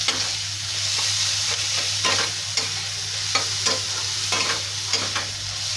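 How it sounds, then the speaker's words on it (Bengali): Bitter gourd and pumpkin stir-fry in a pan, a continuous close sizzle with a low steady hum underneath and periodic scraping bursts from the spatula every second or so, with no one speaking. "দেখো এখানে ভাজি হচ্ছে উচ্ছে কুমড়ো বটি"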